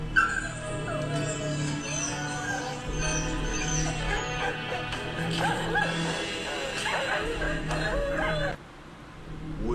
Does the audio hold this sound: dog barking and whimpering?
yes